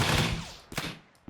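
A gunshot fires in an Unreal Engine 5 third-person shooter game, with a loud burst at the start, then a second sharp crack, fading quickly.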